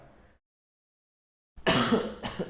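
After a short murmur and a pause of silence, a person with a cold coughs loudly twice in quick succession, close by.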